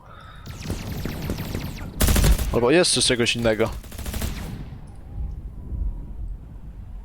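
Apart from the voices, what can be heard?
alien blaster gunfire in video game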